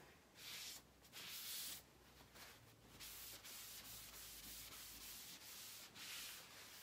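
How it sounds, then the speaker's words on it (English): Rhythmic swishing rubs of a shop towel wiping sanding dust off a painted surface, in several quick back-and-forth strokes, close and fairly quiet with no talking. "I'm just going to wipe it off."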